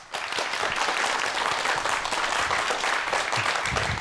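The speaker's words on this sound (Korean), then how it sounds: "큰 박수로 환영해 주세요" A studio audience claps loudly and steadily to welcome a guest onto a television startup show, a dense continuous wash of applause with no talking.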